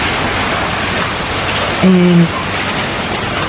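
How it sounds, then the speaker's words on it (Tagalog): Heavy rain falls in a steady, loud hiss near Khao Sok, broken by a brief low tonal hum, with a single spoken word. "So, umuulan pa din."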